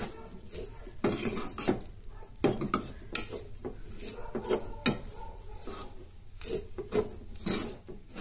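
A spoon stirs masala with potatoes and spices in a pan, giving repeated close metallic scrapes and clinks in uneven bursts with brief pauses between strokes, no voices.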